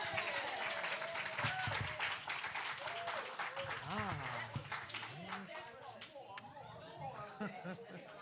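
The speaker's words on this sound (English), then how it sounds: "can we give them another round of applause?" A church congregation claps steadily, the applause slowly thinning out, while voices talk and chatter over it.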